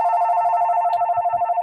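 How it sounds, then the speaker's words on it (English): A telephone ringtone warbles in rapid pulses for under two seconds, loud and close, with no talk over it. "sorry, my phone's ringing, but I'm going to ignore it for a moment."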